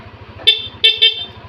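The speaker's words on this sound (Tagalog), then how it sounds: "then dual contact horn" A motorcycle's dual-contact horn honks three short times, the second and third close together, with a soft engine idle pulsing under it.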